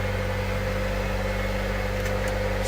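A 1998 Honda CR-V engine idles steadily with the air conditioning running, a constant close, loud hum with a low drone and a faint whine, uninterrupted and without talk.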